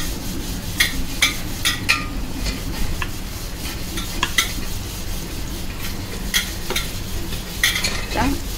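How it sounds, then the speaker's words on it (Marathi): Halwa fish coated in semolina, rice flour and gram flour fries in a pan over medium-high gas, giving a steady dense sizzle with occasional sharp clinks and scrapes of a utensil against the pan. "ते व्यवस्थित लावून फिश मीडियम टू हाय गॅसवरती तळून घ्यायचं"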